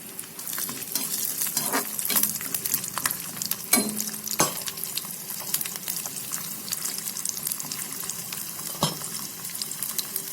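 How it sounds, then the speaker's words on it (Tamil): Garlic frying in a small amount of oil for a Tamil garlic chutney, a steady close sizzle with occasional stirring scrapes and clinks throughout, no voices. "வதக்குற வரைக்கும் நல்லா பூண்டை வறுத்துக்கலாம்"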